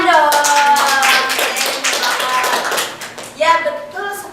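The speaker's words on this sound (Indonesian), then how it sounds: "Tepuk tangan dong" Loud clapping from a class during a microteaching practice lesson, rapid sharp claps over a group of children's voices, fading briefly before a burst of voices and claps near the end.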